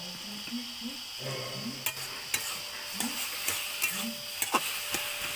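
Taro leaves fry in mustard oil with a soft steady sizzle, broken by sharp scrapes and taps of a spatula stirring the pan, while a person speaks quietly at times.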